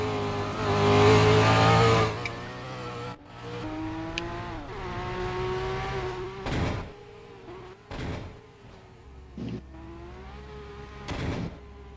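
A Porsche 911 race car pulls into the pit lane at a time attack event, its engine whining and shifting pitch at a moderate distance, with several sharp whooshing bursts over the top.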